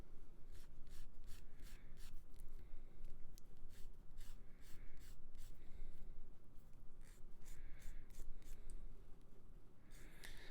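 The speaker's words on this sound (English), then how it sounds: "A little bit tricky to sand these down without ruining the curve" Steady scratchy rubbing of sanding on a small curved plastic model kit part, short back-and-forth strokes repeating close up at a constant moderate level.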